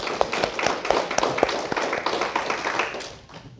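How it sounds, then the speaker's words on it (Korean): A church congregation claps for a few seconds during a Palm Sunday service, a dense patter of many hands that fades toward the end. "우리 하나님께 영광의 박수 한번 올려드리고"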